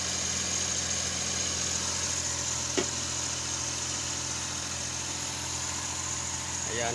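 A car engine idles steadily after starting, a faint continuous low hum with a high tonal whine, one brief click partway through.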